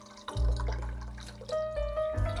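A 12-ounce beer is poured into a pot holding 3 quarts of water, making a soft splashing gush that starts after a brief pause and continues with a faint ringing tone.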